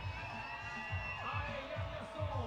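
Spectators at a 2018 lead climbing World Cup in Villars cheer and whoop steadily, a dense roar of crowd noise with yells rising and falling throughout.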